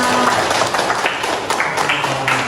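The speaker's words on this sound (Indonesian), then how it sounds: "tepuk tangan buat Alessandra" A classroom of students applauds for a classmate named Alessandra, a short, dense, steady patter of many hands clapping at once, loud and near.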